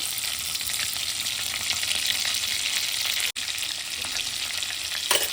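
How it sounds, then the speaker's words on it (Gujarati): Asafoetida dropped into hot mixed oil and butter for butter pulao crackles with a steady, dense sizzle close by, one brief dropout midway and a small clatter near the end, no voices. "તેલ અને બટર મેં મિક્સ કરી દીધું છે અને થોડું ગરમ થાય એટલે આપણે હિંગ નાખીશું"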